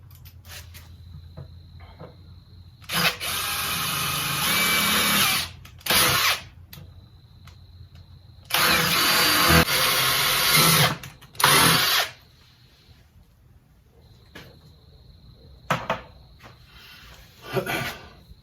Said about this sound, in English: Okay, so now I've got all these holes drilled in here.